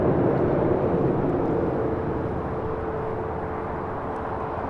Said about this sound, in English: This is Delta Airlines 867 taking off to Orlando on an A321 Neo